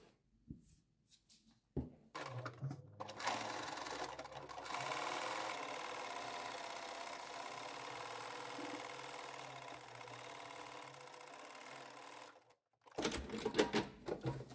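A sewing machine stitches the bottom hem of a zero-waste fabric bag: a few light clicks, then a steady close whirring run of about ten seconds that stops and gives way to quick mechanical clatter.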